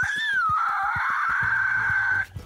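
A voice imitates a mighty eagle's battle cry in the animated Angry Birds film: a long, shrill, sustained screech held over a steady rhythmic thumping beat that stops abruptly at the end.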